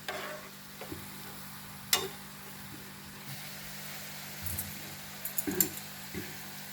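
Jalebi fry in hot oil with a faint, low sizzle, broken by a few sharp clicks and scrapes as the coils are flipped in the pan.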